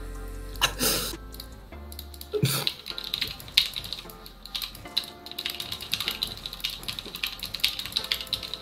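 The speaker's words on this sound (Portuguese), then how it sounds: "Hoje eu ouço mais o teclado do que o jogo" Mechanical keyboard clacking during gaming, rapid close clicks and taps in irregular bursts with a couple of louder knocks and rustles near the start.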